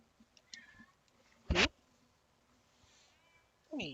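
A pet cat gives a single short, fairly loud meow amid quiet room sound, with faint murmuring and a brief voice nearby.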